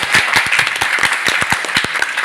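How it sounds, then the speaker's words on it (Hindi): Audience at a network marketing seminar bursts into loud, close applause, a dense run of individual sharp claps over about two seconds. "तो क्या जोरदार तालियां नहीं होनी चाहिए?"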